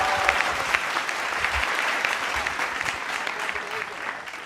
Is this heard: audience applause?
yes